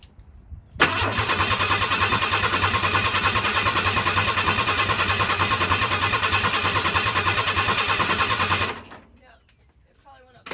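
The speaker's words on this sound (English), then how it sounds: "I'll just crank it again to make sure." A 1991 Ford F150 engine catches on a crank and settles into a loud, steady, close idle with an even pulsing rhythm for about eight seconds before it is shut off, leaving near silence.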